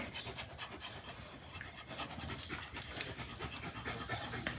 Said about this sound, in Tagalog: Pagbalik namin, grabe yung hingal niya.